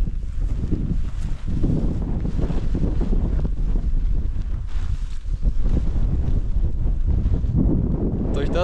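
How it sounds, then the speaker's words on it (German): Fresh wind gusts across an open meadow in Armenia at sunrise, buffeting the microphone in a loud continuous roar that rises and falls, with a voice briefly audible beneath it. "Der Wind ist echt frisch."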